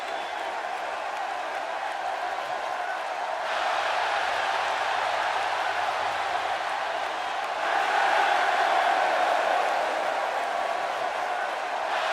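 A virtual arena crowd roars in the WWE 2K16 wrestling game, a steady wall of cheering that swells louder twice, with no clear voices standing out from it.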